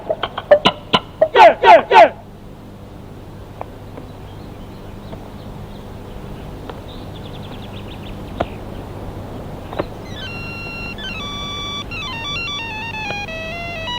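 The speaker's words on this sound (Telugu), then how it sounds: "ఫోన్ ఏదో వచ్చింది" A phone ringtone for an incoming call plays as a sustained electronic melody that starts partway through and runs to the end, with sharp louder bursts near the start.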